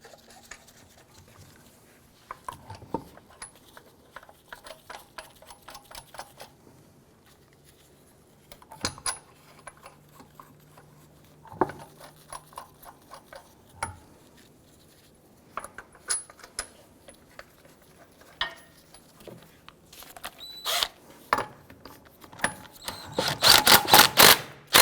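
Lug nuts are threaded on and snugged down by hand on an Infiniti G37 wheel: metallic clinks, rattles and ratcheting ticks, sparse and close at first, growing busier and louder toward the end.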